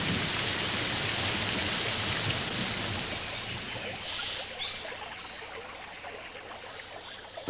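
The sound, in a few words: heavy rain in the Pantanal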